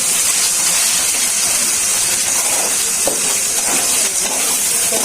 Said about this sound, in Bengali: এখন এগুলো ভালো করে ভেজে নিতে হবে।